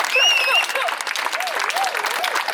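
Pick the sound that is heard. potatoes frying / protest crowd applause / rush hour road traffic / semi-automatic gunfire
protest crowd applause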